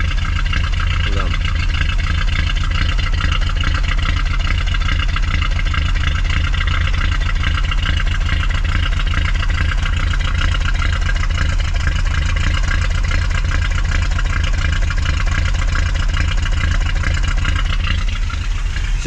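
A BMW E36 316i with the M40 engine idles roughly with misfires, giving a continuous, fairly loud mechanical drone close by that stays steady throughout, with a voice talking over it.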